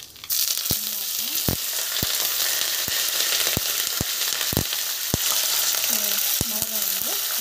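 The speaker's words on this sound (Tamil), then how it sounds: "சீரகம் வந்து ஆட் பண்ணலாம், நல்லா வந்து வதக்கலாம்" Cumin and curry leaves sautéing in hot oil for puliyodarai, a dense steady frying hiss under regular sharp spatula taps on the pan, with faint background voices.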